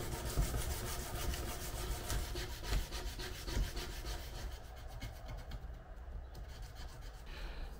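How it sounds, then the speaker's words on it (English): Quiet, repetitive rubbing strokes of aluminium oxide and silicon carbide abrasive paper on a surface while hand sanding a sheath, a soft rhythmic scratching that continues steadily throughout. "I'll move on to doing basically just a general hand sanding with some aluminium oxide and then silicon carbide paper"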